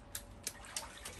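A child plays with water; four quick, soft splashes land in a steady rhythm, faint and close.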